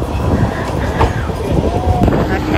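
A Manchester tram running on rails, a steady loud rumble with faint squeals and clicks, and someone speaking briefly over it.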